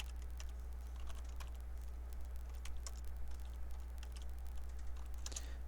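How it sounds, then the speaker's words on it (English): Fingers tap buttons on a calculator in a light, irregular patter of soft clicks over a steady low hum, close and quiet. "Type that into my calculator."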